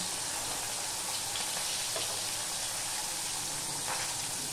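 Pomfret fish fries in hot oil, making a dense, even hiss that holds steady and close for the whole stretch without any voices.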